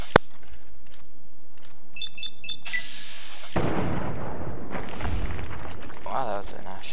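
Gunfire striking the player in Fallout 3: a sharp, sudden crack at the very start, followed by game effects, a brief bright tone and rumbling impact noise, with a voice talking partway through.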